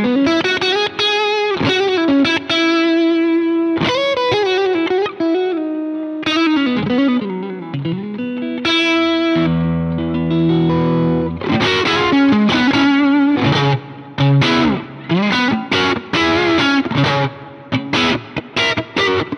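Electric guitar played on the neck pickup through an Ibanez TSV808 Tube Screamer overdrive, a loud, continuous distorted jam of sustained notes, bends and choppy chords, close and alone with no talking.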